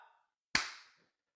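One sharp, close hand clap, a single crisp smack that dies away quickly into silence.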